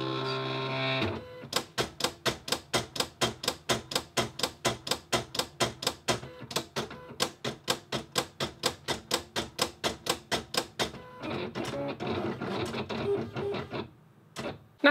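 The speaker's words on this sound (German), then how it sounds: "Und anschließend startet dein Testschnitt automatisch an deinem Plotter." A Silhouette cutting plotter runs a test cut, producing a fast, regular train of sharp mechanical clicks and taps for about ten seconds, followed by softer whirring carriage movement, all close and clear with no talking.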